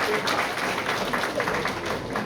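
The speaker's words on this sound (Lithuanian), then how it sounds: "plojimai?" An audience at a school last-bell ceremony applauds with steady, dense clapping that fills the whole short stretch at an even level.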